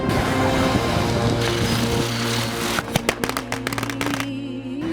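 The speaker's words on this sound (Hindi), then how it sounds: "पटाखे फूट रहे थे।" Firecrackers bursting during Diwali celebrations in a village, heard as a run of sharp, fairly loud pops in the second half, layered over a dense, steady background din.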